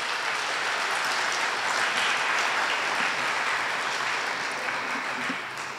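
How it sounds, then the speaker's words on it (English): Loud, sustained audience applause at a middle school magnet parent information meeting, a thick even wash of many hands clapping for the full length without pause. "nice round of applause for their..."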